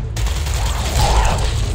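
Gunfire in Gears Tactics on an insane ironman run, a loud continuous battle din of rapid shots and mechanical clatter with no pauses.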